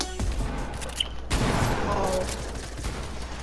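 Rapid gunfire in Fortnite during a live event, a dense burst of shots with one sharp loud blast partway through, continuing under excited player voices.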